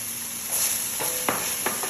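Sliced onion being stirred into browned ground chicken in a hot pan, a soft continuous sizzle with a few scraping strokes of the spoon, close and fairly quiet.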